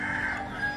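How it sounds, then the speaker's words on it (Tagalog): A rooster crows in a single sustained, strained call in the early morning, fairly near, against a faint steady background. "tunog ng mga manok kada umaga"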